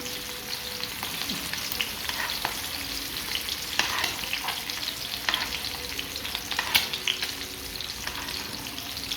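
Masala-coated ayila fish fries in a pan over a medium flame, a steady soft sizzle with occasional crackles and pops, close and unaccompanied by talk.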